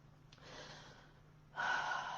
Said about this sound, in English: So that just means breathing in and breathing out.